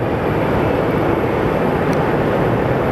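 Air Canada Boeing 787 heavy jet airliner in black and white livery at Sky Harbor Airport, a steady loud broadband engine roar held for the whole stretch with no break.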